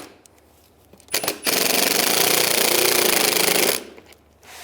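A power tool whirs loudly for about two and a half seconds, driving a screw down into a fog light bracket on a 2010-2017 Chevrolet Equinox, with quiet handling noise before and after.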